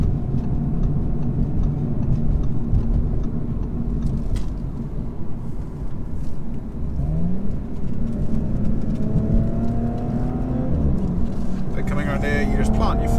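A 2017 Audi S4 engine driving on wet roads gives a steady low drone that climbs in pitch as it accelerates, with faint ticking and road noise in the cabin and a person talking over it.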